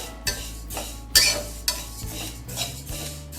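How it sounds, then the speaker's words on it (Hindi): Sesame seeds dry roast in a hot kadai, giving a soft sizzle and light crackle under sharp metallic scrapes and clinks from stirring, close and fairly loud, with no voices. "तो यहाँ पे आप देख सकते हैं कि हमारे तिल भुनने लग गए और चट चट की आवाज आ रही होगी आपको।"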